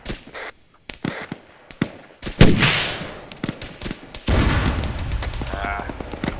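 Video game tank combat: a tank cannon fires with a heavy boom, followed by a long rumbling roll and more bursts of gunfire, loud and close, with a few sharp clicks and beeps before.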